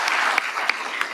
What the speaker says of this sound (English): And we join you in giving you a round of applause.